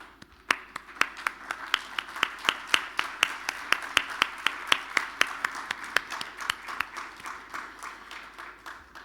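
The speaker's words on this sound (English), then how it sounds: "giving you a round of applause" An audience at a climate innovation symposium applauds the incubator cohorts with steady clapping. Sharp, regular claps from nearby stand out over a softer background of applause, and the clapping runs for the whole stretch.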